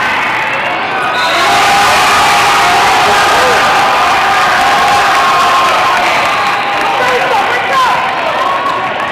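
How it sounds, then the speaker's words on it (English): A packed crowd at a youth basketball game roars and cheers continuously, loud and dense, with shouting voices blending into a sustained wall of noise. "The crowd really got into this game, with more than a few fanatics in the crowd."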